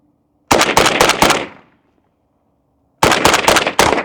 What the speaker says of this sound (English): Take a couple shots on target.